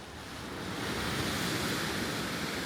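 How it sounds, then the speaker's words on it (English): Ocean waves wash steadily below a cruise ship's deck 10 balcony off Brisbane, Australia, a continuous broad hiss and roar that swells slightly and stays even, with wind brushing the microphone and no voices. "the sound, listening to the waves, just so nice, peaceful and relaxing"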